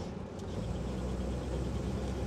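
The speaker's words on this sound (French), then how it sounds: "Voilà, en troisième, elle est beaucoup plus agréable à conduire." A 1952 Delahaye 235 with Antem coachwork pulls along in third gear, its engine producing a steady, fairly close broadband drone with no breaks for a couple of seconds.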